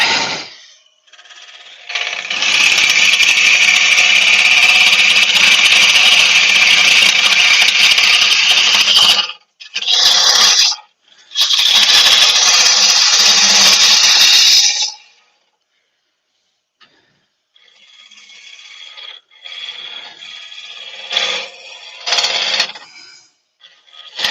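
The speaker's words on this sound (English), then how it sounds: "I could actually use a spindle gouge, can't I?" A spindle gouge cuts a yew hollow form spinning on a wood lathe, giving loud, sustained hissing shaves in long passes with brief pauses, then a quieter, intermittent cut toward the end.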